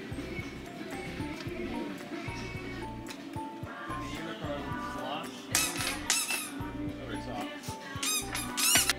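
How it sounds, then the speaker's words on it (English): A worm-shaped squeaky dog toy is squeezed in a pet store, giving several sharp, high squeaks in quick bursts, loudest near the end, amid shop background noise and a person talking. "We found this worm squeaky toy."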